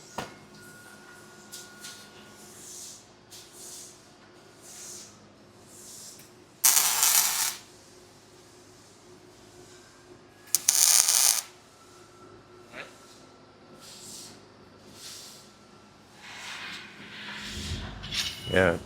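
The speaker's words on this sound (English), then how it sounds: "I dropped that jam nut" A metal jam nut dropped during welding work on a '55 Chevy Wagon frame gives brief bright metallic clinks and clatter, two sharp bursts standing out over quiet shop noise and soft talk.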